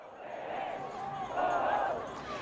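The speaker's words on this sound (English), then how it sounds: "Crowds of Americans protesting their government" A large crowd of protesters at a political rally roars and chants in a steady, dense wash of voices, swelling louder midway and staying busy throughout.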